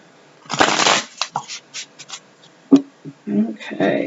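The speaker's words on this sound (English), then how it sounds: "I'm going to do a shuffle here." A tarot deck is shuffled by hand up close: a long riffling burst, then a string of shorter card slaps and rustles.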